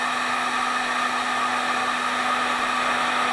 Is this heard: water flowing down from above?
no